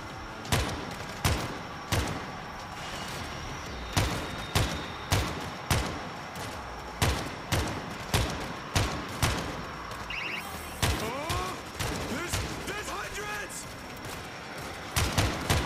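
Machine gun fire at zombies in a zombie city survival game, sharp repeated gunshots in irregular bursts over background game noise, with a voice talking throughout.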